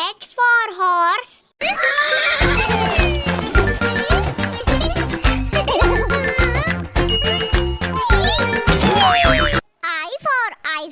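Short horse whinnies within a children's phonics nursery song, one near the start and another at the end, framing a stretch of loud sung music and children's voices.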